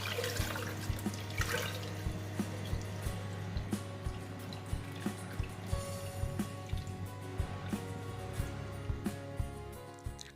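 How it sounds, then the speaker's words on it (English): Clean running water streams steadily from a tap over peeled beans in a sink, a continuous close rush broken by small repeated splashes and knocks as the beans are rinsed, with no talking. "I will rinse with clean water."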